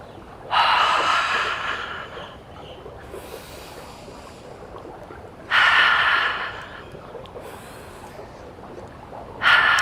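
Deliberate breathing exercise, with air drawn in through the nose and pushed out through an open mouth: three loud, close, breathy bursts arrive several seconds apart, each fading gradually into quiet room tone.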